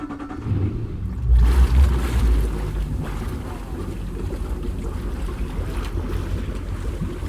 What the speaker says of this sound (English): You can't beat the sound of a petrol V8, can you?